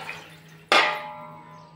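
Water splashes into a pot of rice flour in a single sudden pour, a close, bright gush that tapers off over about a second against a quiet kitchen background.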